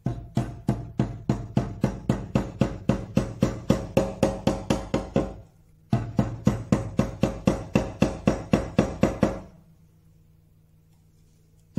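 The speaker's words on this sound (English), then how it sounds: "And let's give it a tap." Hammer tapping a tapered, glue-coated piece into a hole, about two dozen sharp regular knocks in two runs separated by a short pause, close and crisp, ending in quiet.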